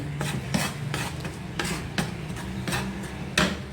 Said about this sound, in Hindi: आंच को मैं तेज़ करूंगी और इस पर मैं अदरक लहसुन को भूनूंगी।